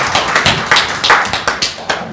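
Audience clapping at a policy forum in a National Assembly seminar room: distinct, close hand claps in a loose, fairly regular rhythm, loud and crisp, with no voices over them.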